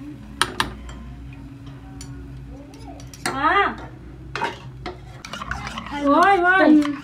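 Spoon scraping and clinking in a pan as semiya is stirred while frying, scattered metallic knocks and scrapes over a steady kitchen hum, with voices talking in the background.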